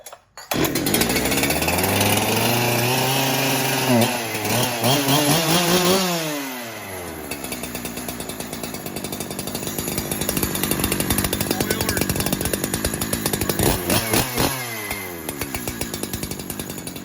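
A new Holzforma G372xp chainsaw firing up and running loud and close, revving up and down with sweeping pitch changes, settling into a rough idle, then revving again.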